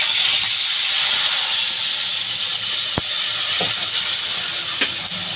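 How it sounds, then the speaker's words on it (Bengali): Water is poured into a hot wok after a fish head has been fried, setting off a loud, sustained steam hiss and sizzle with a few sharp crackles. "মাথাটা বন্ধুরা ভাজা হয়ে গেছে আমি এবারে কড়াইতে জল দিয়ে দেবো"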